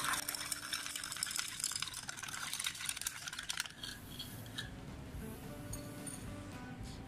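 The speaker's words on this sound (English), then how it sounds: "I'm going to add 4 spoons of salt. And I'm going to stir." A spoon stirs four spoonfuls of salt into water, rapid light clicking and scraping against the container at first, then softer swirling liquid sounds, all close and fairly quiet.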